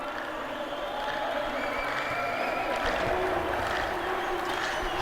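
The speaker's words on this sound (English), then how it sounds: "Slow hand clap starts to go around the Al Sadd Stadium." A stadium crowd at Al Sadd Stadium during a Qatar versus China World Cup qualifier keeps up a steady, distant wash of noise with slow clapping spreading through it, while a commentator talks over the top.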